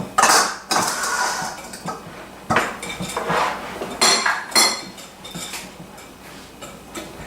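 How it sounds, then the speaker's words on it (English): Peanut butter mixture being whisked in a bowl for trick or treat bars, giving close, irregular bursts of clinking and scraping metal against the bowl with short pauses between strokes. "go ahead and start whisking it."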